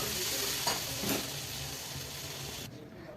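Phodi zunka, a Maharashtrian gram-flour dish, is stir-fried in a pan with steady close sizzling and hissing and stirring scrapes, fairly even throughout before cutting off abruptly near the end.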